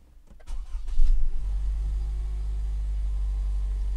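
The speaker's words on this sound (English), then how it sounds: "Let me go ahead and start the vehicle up." A 2015 Lexus NX200 cranks briefly, catches and settles into a smooth, steady idle, heard up close and alone.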